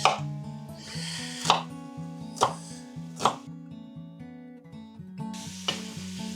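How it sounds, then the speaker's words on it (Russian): Several sharp knife chops through onions on a board, spaced out and fairly loud, over a steady backing of music. "мы порежем лук"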